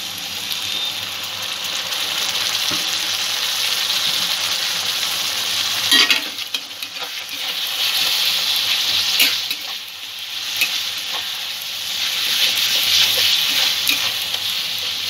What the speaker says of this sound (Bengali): সামান্য জল যোগ করে দেব মশলাটা ভালো করে কষার জন্য